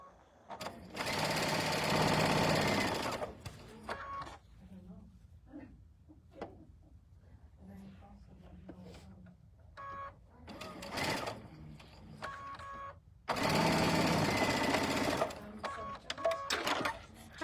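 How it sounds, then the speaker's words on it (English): Two loud bursts of a quilting sewing machine stitching a quarter-inch seam, each a few seconds of fast steady whirring, separated by quieter handling sounds, soft clicks and brief talk. "Still got my machine on the Q2 doing the 1/4-inch seam."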